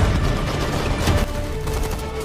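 Dense gunfire crackles through a cinematic firefight, rapid overlapping shots forming a loud continuous barrage with booming low rumble, no pauses or voices.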